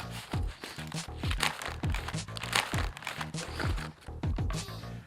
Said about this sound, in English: let's get these ribs unwrapped